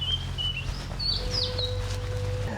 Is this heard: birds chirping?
yes